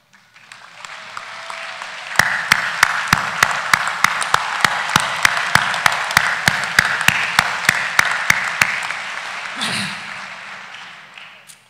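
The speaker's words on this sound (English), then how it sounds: "Will the students graduating with Honors College honors please stand and receive our applause?" Audience at a university commencement applauds Honors College graduates: a broad, sustained wash of clapping that swells and holds for several seconds, punctuated by a steady run of sharp, loud claps near the microphone, then tapers off.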